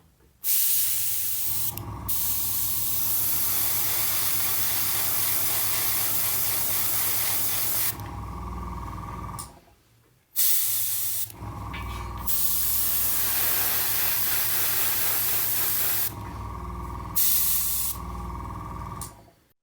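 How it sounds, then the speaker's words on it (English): A Tamiya Flat Clear TS-80 spray can hisses in two long continuous bursts, loud and close, separated by a brief pause, applying clear coat to a 1/35 scale model tank. "I was just using Tamiya's Flat Clear TS80 from a spray can"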